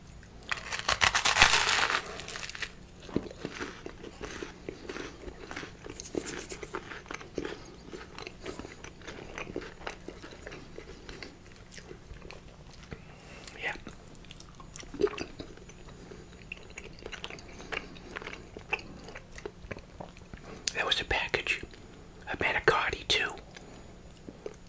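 Close, quiet chewing and crunching of Texas toast with ravioli and meatballs, irregular soft bites and wet mouth sounds with a few louder crunchy bursts, alongside occasional soft whispered speech.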